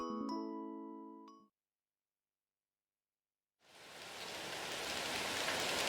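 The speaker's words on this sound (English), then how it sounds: "we stare outside of the pouring rain that's hammering the window" Pouring rain hammers a window in a visual novel, entering as a steady hiss after a short chime melody and a moment of silence, continuing at an even level to the end.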